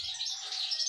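Birds chirping in a breeding enclosure, a steady run of high, bright twittering calls close by with no talk.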